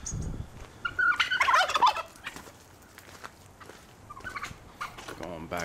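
Turkeys and other fowl call near a small pigeon coop on a muddy yard, a short rattling gobble burst followed by quieter scattered bird calls, fairly distant and moderately faint.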